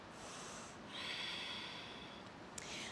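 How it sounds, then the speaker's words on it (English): A deep inhale taken during a vinyasa yoga flow while holding a warrior two pose, a soft, close, breathy rush that swells for a couple of seconds over steady background hiss, with no talking. "Take a nice deep breath."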